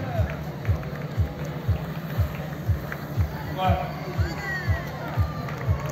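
Spectators line the course of a roller skating marathon in Madeira, making a steady crowd din with cheers and scattered shouts, close to the mic, with a rhythmic thudding running underneath and voices over the top.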